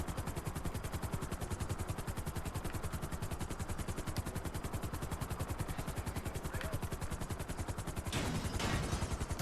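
A helicopter in GTA 5 comes down to land at a hospital helipad, with loud, rapid, steady rotor chopping that fills the whole clip and swells slightly near the end, with no talking.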